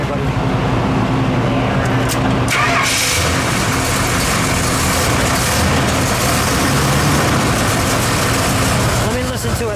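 A 1973 Plymouth Road Runner GTX 440 V8 cranks and fires up indoors, its loud engine settling into a steady rumbling idle with broadband roar throughout, people talking over it.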